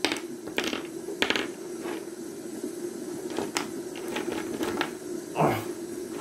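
Dice rattle and click against a hard surface in a tabletop Army Men game, a run of quick, sharp taps spread across the moment with no talking.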